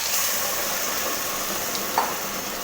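Dried fish curry with vegetables keeps up a steady, broad sizzle in the pan as a little hot water goes in, with a soft splash near the end and no talking.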